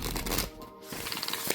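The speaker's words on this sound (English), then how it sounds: "I'm just gonna pull some cards from this one" Oracle cards from a Sherilyn Darcy deck riffle and slide against each other in a short, close burst of papery shuffling with a brief pause partway through.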